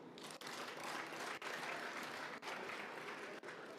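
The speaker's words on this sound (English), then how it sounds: "Yes, we can applaud." Dense, sustained applause from the members at a joint sitting of parliament during a presidential reply to the State of the Nation debate, a continuous roar of many hands clapping with no talking.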